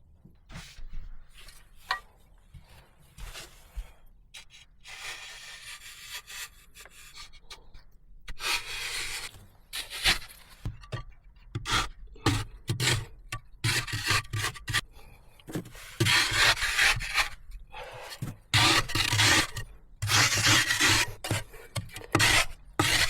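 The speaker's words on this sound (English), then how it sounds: "Carefully smoothing the surface inside the cavity." A tool rasps and scrapes against earth while smoothing the inside of an underground stove cavity in a forest, in irregular bursts of rubbing strokes with brief pauses, close and moderately loud.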